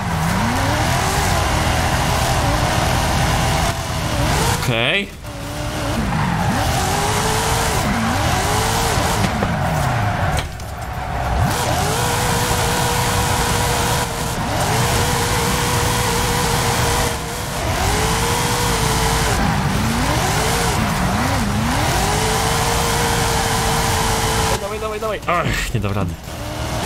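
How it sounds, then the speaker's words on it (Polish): A car in the Forza Horizon 5 Hot Wheels video game drifts with a loud, sustained engine roar and repeated tire squeals that swoop up and down, while someone talks over it. "Jeszcze próbujemy tu driftować, to już ciężko."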